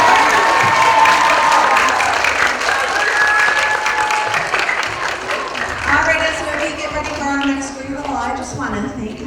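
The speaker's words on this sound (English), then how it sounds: "Let's give them a round of applause." An audience claps for pre-K children at a school character education assembly, loud sustained applause with some cheering and children's voices that thins toward the end while an adult voice talks over it.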